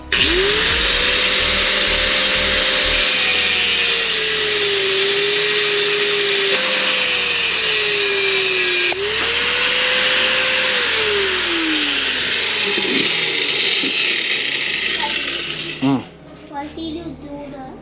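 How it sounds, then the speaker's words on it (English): A power saw whines loudly and continuously while cutting a metal trunk strut on an R33 Nissan Skyline where the shock meets the bracket, its pitch rising and dipping under load before it stops near the end. "get your saw, you're gonna hold it and cut it right over here where the shock meets the bracket"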